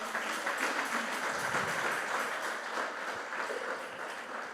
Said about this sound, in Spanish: Fuerte aplauso al Espíritu Santo.